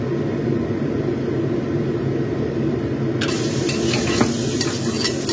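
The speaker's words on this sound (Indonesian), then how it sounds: "Setelah minyaknya panas, kita tumis semua bumbu yang terdiri dari bawang putih, jahe, daun bawang, dan cabai" Garlic, ginger, scallion and chili sautéing in hot oil in a wok, a steady loud sizzle with stirring scrapes that grows brighter midway, no talking.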